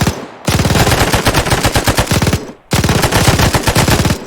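Sustained automatic machine gun fire in ARMA 3, loud rapid bursts of evenly spaced shots, broken by a brief pause before a second long burst.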